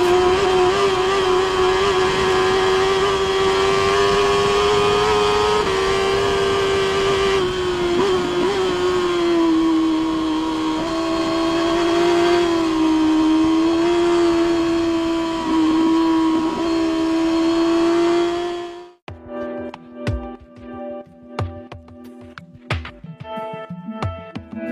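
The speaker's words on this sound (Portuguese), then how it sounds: "ele também gostaria de produzir uma motocicleta para competir na famosa competição TT da Ilha de Man" Racing motorcycles at the Isle of Man TT roar past with a sustained high engine whine that rises and falls, then the sound cuts off abruptly near the end.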